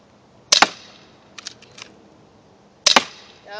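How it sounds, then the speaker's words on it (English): An airsoft gun fires a few sharp cracks: a quick double pop, a fainter cluster of small clicks, then another close double pop, each short and snappy against a quiet background. "That was like 4 or 5 shots."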